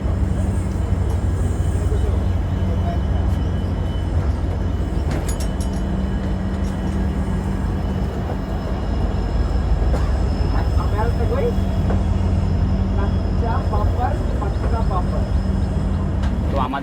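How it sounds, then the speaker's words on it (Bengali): Aboard the Garib Rath express as it pulls out of Badarpur Junction, a continuous heavy rolling rumble and rattle of the carriage carries on at constant loudness, with voices murmuring in the background. "তো আমাদের ট্রেনটা তো বদরপুর স্টেশন থেকে ছেড়ে দিল"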